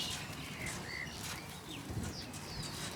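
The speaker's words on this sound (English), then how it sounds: "You can hear them squeaking away." Young pigeons, including a saddleback and a checker pied, give faint squeaking calls in a loft, with short high chirps scattered over about three seconds of low background noise.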